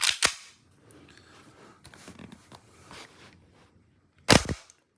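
Two sharp gas-powered shots from a WE Sig Sauer P229 airsoft pistol, one at the very start and one near the end, close and snappy, with faint quiet handling noises between.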